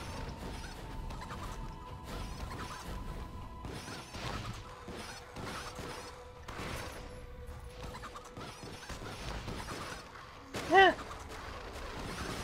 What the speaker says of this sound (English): Chickens, motherfucker!